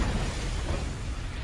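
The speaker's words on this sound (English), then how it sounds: "Freaking explosions and junk." Explosions in the video game Tron Evolution, a dense, roaring burst of booming noise that fills the whole short stretch with steady, loud rumble and no talk.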